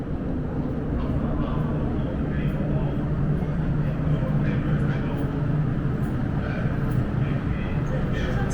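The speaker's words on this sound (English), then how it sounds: "The train to Kennedy Town is arriving." MTR Island Line M-train pulling into North Point station, a steady loud rumble of wheels and motors filling the platform throughout, with announcements and voices over it.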